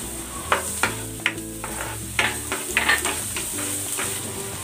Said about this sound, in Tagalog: Igisa na natin tong bawang.